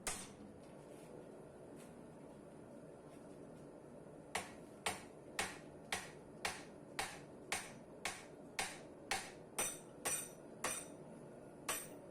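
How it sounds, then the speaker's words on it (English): A blacksmith hammers forged tongs in a forge to bend them without an anvil horn: about fourteen sharp, ringing metal strikes at a steady pace, close and loud, after several seconds of quieter background noise. "What you can see is me trying to bend the tongs without anvil horn."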